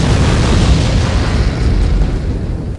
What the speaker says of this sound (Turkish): şimdi burayı patlatacağız. Dinamitleri alın.